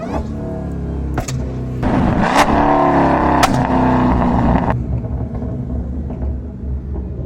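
A Dodge Hellcat's engine rumbles steadily while driving, a loud, continuous low drone with a surge of revving in the middle before it settles back to a steady cruise.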